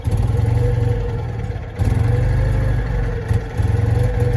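A Citroen 2CV with a single-barrel carburettor idles roughly up close: a loud, chugging engine note that sags and nearly dies twice before picking back up, with no talking.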